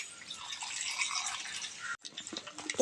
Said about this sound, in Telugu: కొద్దిగా నీళ్లు పోసుకుందామండి.